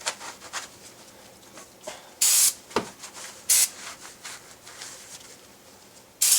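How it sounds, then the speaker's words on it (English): Brake cleaner is sprayed onto a brake pad during a front wheel bearing replacement on a 1999-2001 Volvo S60, heard as three short sharp hissing bursts amid light rubbing and handling noise nearby. "I'll spray a little bit of a brake cleaner on the pad"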